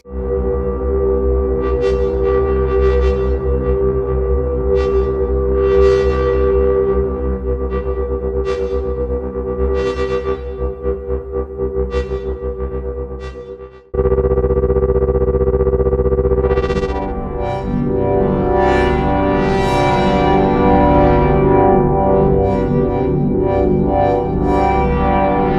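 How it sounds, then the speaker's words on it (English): Granular engine of a 1010music Lemondrop synth reshapes a drone into a loud, evolving texture of stuttering grains and bright flickering bursts, shifting abruptly halfway into a denser, noisier swirl, with no talking. "And let's go into the granular engine and see what we can do."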